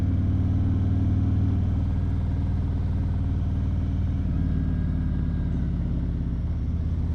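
Motorcycle engine on a scenic ride near Hadlock Pond on roads with salt and sand, a steady low rumble of the engine and road noise running continuously throughout, fairly close.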